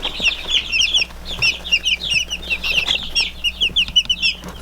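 Buff Brahma and buff Orpington bantam chickens cluck and chatter close by in quick, overlapping bursts, a busy stream of soft calls with no talking.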